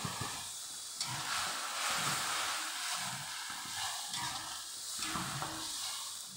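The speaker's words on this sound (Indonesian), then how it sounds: "Saya goreng ikan asin" Salted fish frying in a pan gives a steady hiss and sizzle, close and continuous, with soft surges and stirring bumps and no talk.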